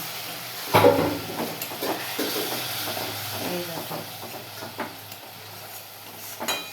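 Water splashes into a hot pan of turmeric and chili powder, bursting into a loud hiss of steam, then settling into steady sizzling with stirring scrapes close by.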